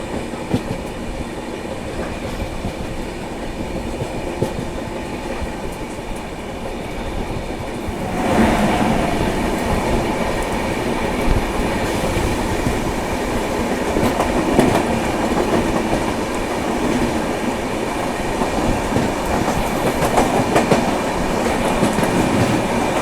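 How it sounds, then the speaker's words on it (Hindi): Amritsar Howrah Mail, train 13006, running past on the rails, a steady loud rumble of wheels and carriages that swells partway through and continues to the end, with no voices. "सामने से आ रही है train number 13006 Amritsar Howrah mail"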